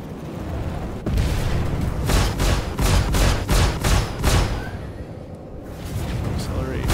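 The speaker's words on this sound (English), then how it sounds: "Pinky switch fires the missiles when I hold long." Missiles fire in rapid succession from a fighter craft in the space combat game Star Citizen, a string of loud whooshing bursts over a steady engine hum.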